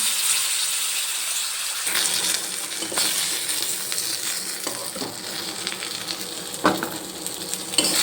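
Salted katla fish pieces sizzling in hot oil in a pan, a loud continuous crackle with sharper spits and clinks as pieces are dropped in one after another, no talking.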